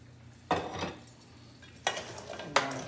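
Boiling sugar syrup (pag) is stirred into freshly fried mitai for Diwali sweets, making three separate scraping, sloshing strokes against the pot, close and moderately loud, with quiet pauses between.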